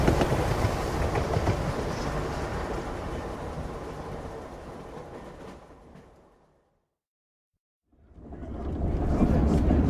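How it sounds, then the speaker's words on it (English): An old-style train lurches away from a depot with a loud, close, continuous rumble that fades into silence, then swells again toward the end. "with only a slight lurch, the train began to move"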